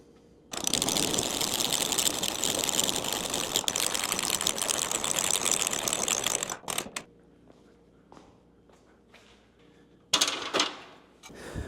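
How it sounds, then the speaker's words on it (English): Retractable shop steps are cranked up in a garage, giving a loud, continuous rapid ratcheting clatter for about six seconds, then scattered clicks and knocks, and a second short burst of cranking near the end. "we're going to go ahead and crank these steps up and see if we can put this thing in place"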